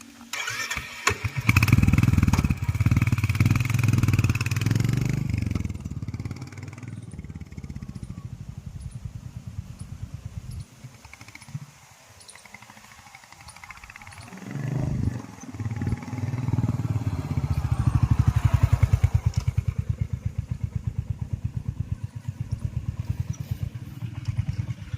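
A Royal Enfield Hunter 350 motorcycle rides past up close, its thumping single-cylinder engine revving loud and throaty, easing off to a quieter lull midway, then building again into a strong pull.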